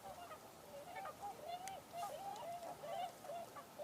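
Faint, distant calls of tundra swans, a string of soft high honking notes repeating irregularly over steady background noise.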